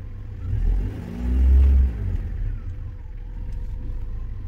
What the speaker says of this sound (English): let's go ahead and give this car a little bit rev and see what happens